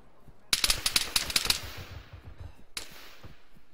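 A burst of rapid automatic gunfire in the Arma 3 military simulation game, loud and close, followed by a single later shot with a trailing echo.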